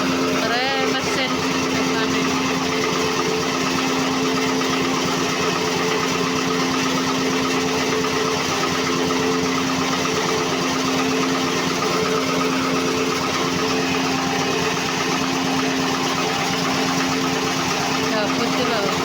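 A corn grinding machine runs at a market, its engine droning steadily with a constant hum and rattling vibration for the whole stretch, loud and close.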